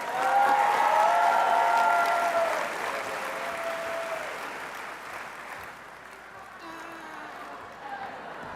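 Convention audience applauding alumni candidates in a large hall, a loud dense wash of clapping that swells at first and then gradually thins and fades, with a few voices mixed in.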